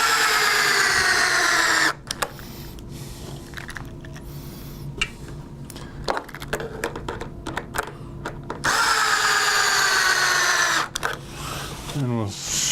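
Power drill backing screws out of a pontoon, whirring in short bursts at the start and end with quieter rattling and handling noises in between.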